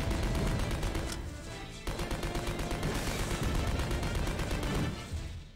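Rapid, evenly spaced gunfire from Resident Evil Survivor 2 rattles on steadily for several seconds with one brief break, fairly quiet in level and with no talk.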